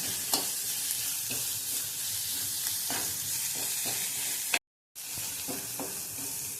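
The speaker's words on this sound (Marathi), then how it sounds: "मालवणी मसाला 1 चमचा घेतला होता, ते घालून तेलात हे मसाले चांगले भाजून घेऊया" Malvani masala and spices roast in hot oil in a pan for a chicken liver dish, giving a steady close sizzle with repeated stirring scrapes and a brief dropout near the end, with no talking.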